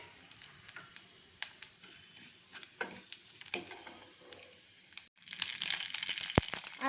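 Mustard seeds, chana dal, urad dal, cumin and fenugreek spluttering in hot oil for an avarekaalu gojju, with faint scattered pops and crackles that grow into a louder sizzle near the end.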